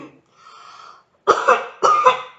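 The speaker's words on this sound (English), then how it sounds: "But go ahead and cough." Two loud, close coughs in quick succession from a patient giving a sputum specimen in a medical exam follow a brief murmur of speech.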